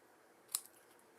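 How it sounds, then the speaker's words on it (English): Scissors make one quick, crisp snip while trimming the edge of a handmade card, a single short cut in an otherwise quiet room. "And then I'm going to trim that off."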